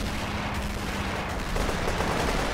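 Gunfire in the World War II shooter Honor & Duty: D-Day, a dense continuous rattle of shots under a steady rumble, heard without talk.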